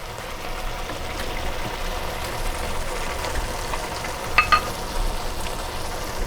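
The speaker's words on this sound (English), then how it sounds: "simmer this one for another 2 to 3 minutes until the liquid is cut in half." Bringhe liquid simmering in a pan, a low continuous bubbling sizzle with faint background rumble and a couple of brief clinks near the end.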